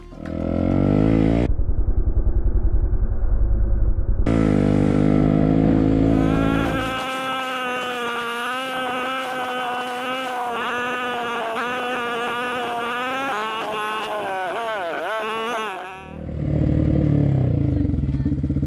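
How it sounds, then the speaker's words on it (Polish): A motorcycle on a green lane rumbles loudly and close at the start, drops away under a long stretch of pitched, voice-like sound, then returns at the end with its engine note. "Motocyklista porusza się legalnie po tej drodze"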